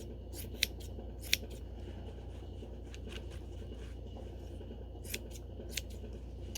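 Scissors trimming yarn to shape a craft caterpillar body, a few sharp, quiet snips spaced apart over a faint steady hum.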